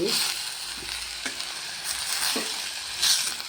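Ponnaganti leafy greens simmer in oil on a low flame, giving a continuous soft sizzle with a few scraping stirs at irregular intervals, heard close up with no talking.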